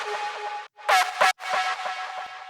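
Bright, buzzy synth tones from the C3 Bark preset with a bark-like attack, cutting in and out in short bursts with brief gaps of silence between phrases.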